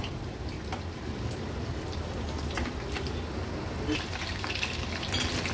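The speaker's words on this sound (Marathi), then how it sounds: "आता मीडियम फ्लेम वर हे क्रिस्पी होईपर्यंत फ्राय करून घ्यायचे आहेत" Chicken koliwada pieces deep-frying in oil on a medium flame, a steady close sizzle and bubbling with scattered crackles and pops throughout.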